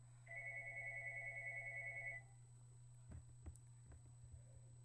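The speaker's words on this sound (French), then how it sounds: "Désolée pour le téléphone." A telephone rings in a quiet indoor room, a steady electronic double-tone trill lasting about two seconds before cutting off, followed by a few soft knocks and rustles over a constant low hum.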